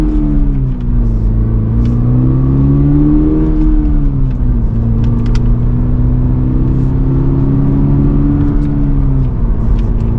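A 2024 Toyota GR86 Premium with a manual transmission pulls away hard, its engine droning loud and close as revs climb, briefly settle and rise again with no voices.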